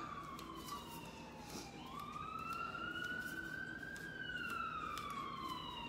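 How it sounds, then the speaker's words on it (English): A distant fire station siren wails steadily, its pitch rising and falling, with a low background rumble and no voices. "So you will hear sirens a lot if I do live videos."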